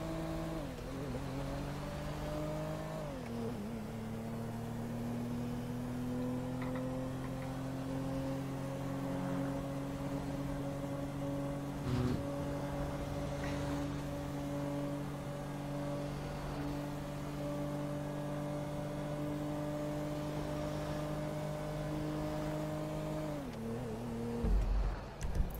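A car driven in the video game GTA V, a steady engine drone whose pitch dips briefly near the start and again near the end, holding a smooth cruising hum, with no one talking over it.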